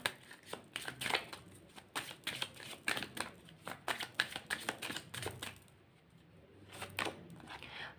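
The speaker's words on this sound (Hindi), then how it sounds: "यहाँ से भी मैं कुछ कार्ड्स आप लोगों के लिए निकालूंगी" Tarot cards shuffled by hand in a quick run of crisp riffles and flicks, close and fairly quiet, pausing briefly near the end before a few more snaps.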